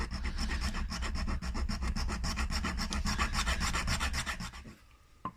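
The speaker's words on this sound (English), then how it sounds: "I'm just going to try and remove it with a file" A hand file rasps across a thin layer on a robot part in fast, even back-and-forth strokes. The strokes are close and loud and stop near the end.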